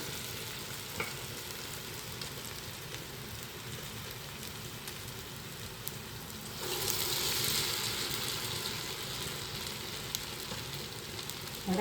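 Ulunthu vada fritters sizzle in hot oil with a continuous, close crackling hiss that swells noticeably louder partway through, with no talking.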